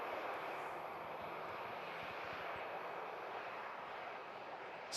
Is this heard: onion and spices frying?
no